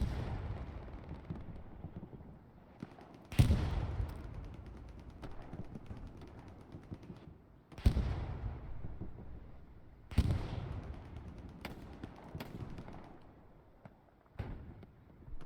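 Artillery fire and explosions in a World War II video game battle on Utah Beach, heavy booms landing every few seconds with long rumbling decays, under a constant low roar of distant gunfire.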